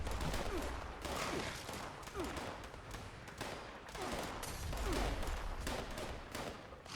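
Fallout 76 combat fills the whole stretch with dense, steady gunfire. Rapid shots repeat at close range without a break, with a heavy low rumble underneath.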